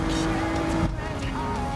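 A pack of race cars in Gran Turismo 7 on the Tokyo Expressway drones steadily at close range, engine tones holding and then shifting as they run together.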